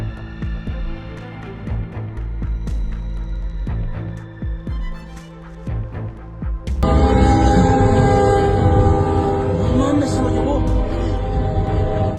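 A train bearing down on a railway worker and a cyclist on the tracks: a low rumble and scattered knocks build up, then the loud, close roar of the passing train swells and holds steady.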